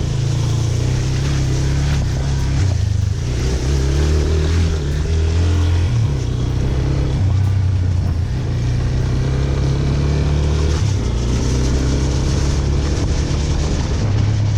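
A Yamaha FZ25 motorcycle engine sends out a bassy exhaust note, loud and close, holding a steady drone with small rises and dips in revs the whole way through.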